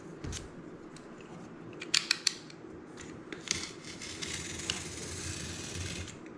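A brand-new craft blade draws repeatedly through a concrete mold piece on a cutting mat, making quiet scratchy slicing strokes with a few sharp clicks and ticks over a steady low background hum.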